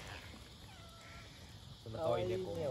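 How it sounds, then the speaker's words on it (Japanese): A cat at a campground meows softly a few times with thin, rising cries, faint at a distance, before people begin talking close by. "え、ここ猫とかおったんじゃん"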